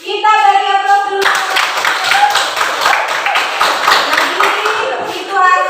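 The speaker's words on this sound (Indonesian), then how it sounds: "Kita beri aplaus dulu." Classroom audience clapping after a group presentation, a brisk round of many hands applauding for several seconds, closely miked, with a voice speaking just before and after.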